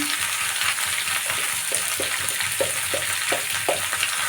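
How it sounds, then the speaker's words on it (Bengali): Potatoes fry in oil with salt and turmeric, giving a constant close sizzle while a spoon stirs them in a regular rhythm of soft taps and scrapes. "আর অল্প একটু হলুদ দিয়ে দিলাম। দিয়ে এটা ভালো করে নেড়ে দিচ্ছি।"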